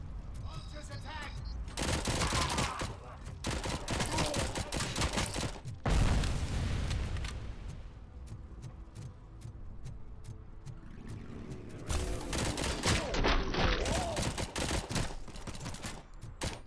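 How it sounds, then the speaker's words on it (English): Small-weapons gunfire in the RoboCop Rogue City video game, loud rapid bursts of shots and impacts in dense volleys with short lulls, near and intense throughout. "For shooting me with small weapons fire."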